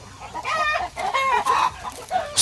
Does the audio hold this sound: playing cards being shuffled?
no